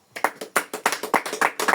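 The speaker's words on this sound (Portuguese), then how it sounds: "Louva o Senhor com as palmas." A church congregation claps hands in praise, a quick steady run of sharp, close, fairly loud claps with a slightly uneven rhythm.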